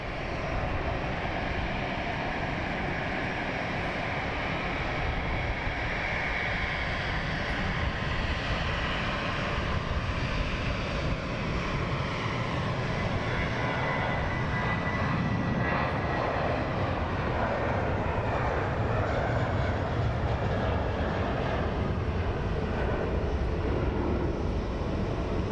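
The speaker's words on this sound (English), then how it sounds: "we have the Wizz Air going out, followed by 2 EasyJets taxiing out at the moment." Wizz Air and EasyJet airliners taxi at London Luton Airport, their jet engines producing a loud, continuous roar and whine that swells slightly as the aircraft move, with no voices.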